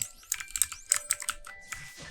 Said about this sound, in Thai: คีย์บคีย์บอร์ดดังขออภัยนะครับผม